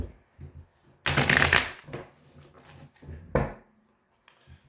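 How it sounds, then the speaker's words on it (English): Tarot cards are shuffled nearby in several separate bursts: a long, loud riffle early on, shorter flurries after it, and quiet handling sounds in the gaps. "So I'm going to thoroughly shuffle."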